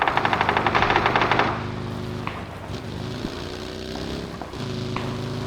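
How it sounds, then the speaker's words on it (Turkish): Gunfire in PUBG on PC, Erangel map: a rapid automatic burst for about a second and a half, then sparse, fainter shots over a steady low engine-like drone. "takım arkadaşımızın o taraftan silah sesleri geliyor."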